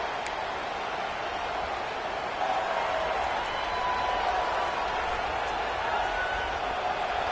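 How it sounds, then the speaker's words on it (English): A stadium crowd roars at an American football game as the defense tries to keep the opposing offense pinned deep. The roar is a loud, steady wash of many voices that swells slightly partway through and holds. "The roar of the crowd trying to fuel this defense to keep them pinned in their own end."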